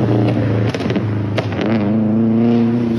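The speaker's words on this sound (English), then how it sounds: "this one says good exhaust. It's an STI." A Subaru STI's boxer engine idles and blips through its exhaust, a loud, steady, close burble with a few brief rev rises.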